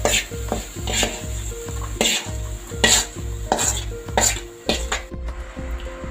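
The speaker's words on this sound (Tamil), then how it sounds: "இப்போ நமக்கு வந்து பிரண்டை வந்து நல்லா எண்ணெயில் வதங்கிருச்சு" Pirandai (veldt grape) frying in oil in a pan for a herbal thuvaiyal chutney, with steady rhythmic scraping of a stirring spoon over a soft sizzle, close and fairly loud throughout.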